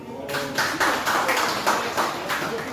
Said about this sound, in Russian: давайте аплодисменты бурные